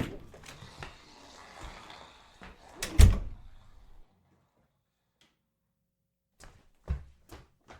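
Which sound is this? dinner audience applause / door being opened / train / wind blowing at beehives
door being opened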